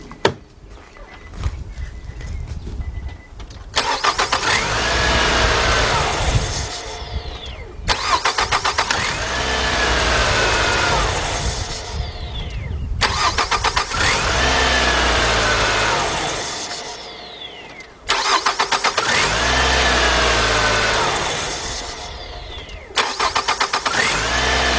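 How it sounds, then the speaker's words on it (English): A 2003 Nissan Altima with a newly replaced starter cranks and fires up about five times in a row. Each start runs briefly at a loud, close idle before being shut off, with short quiet gaps in between. "we're gonna just sit here and crank, shut it off, crank, shut it off,"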